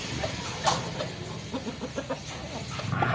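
A chicken clucks in a quick series of short, moderately close calls over a faint background murmur.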